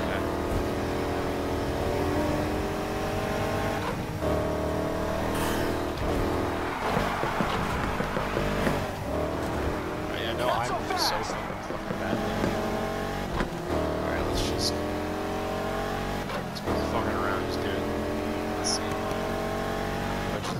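Race car engine in Need for Speed Heat revs and accelerates repeatedly, rising pitch sweeps through gear shifts with loud continuous engine roar, tire and traffic noise, and a voice talking over it.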